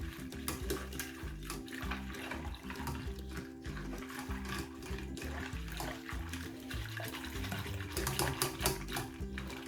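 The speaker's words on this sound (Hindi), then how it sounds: "इन सारी चीज़ों को हम अच्छी तरह से विस्क करेंगे, मिक्स करेंगे" Hot chocolate mixture being whisked in a pan as it starts to cook, a steady rhythmic swishing and scraping over a continuous low hum, nearby and moderately loud, with no speech.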